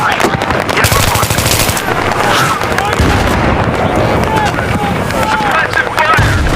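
Machine gun fire in a Battlefield 3 combat mission, loud and sustained rapid bursts mixed with explosions and battle noise, with shouted voices over the gunfire.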